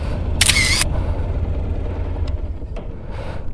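A single camera shutter click during a motorcycle trip through the Picos de Europa, one short sharp burst near the start, followed by faint ticks over a low wind and engine rumble.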